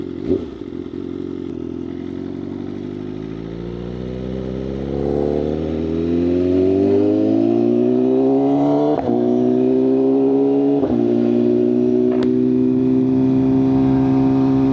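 A BMW M1000RR motorcycle with a loud aftermarket exhaust, close by, with a rising engine note that climbs through the revs and holds a loud, harsh roar, punctuated by a few sharp crackles.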